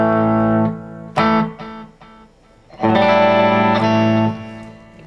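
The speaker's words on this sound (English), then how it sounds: "Strat, back pickup. I have it on single coil, so it's not too thick. Put a little delay on it." A Stratocaster played through its bridge single-coil pickup with a touch of delay in a recording studio rings out sustained bright, slightly gritty notes, one held phrase, a brief gap, then a longer held note trailing echoes.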